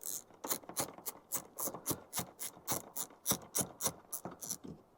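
Screws are undone on the aluminium billet dashboard vents of a Land Rover TD5 with a tool, giving a quiet, steady run of rhythmic ratcheting clicks, close up, with no talking.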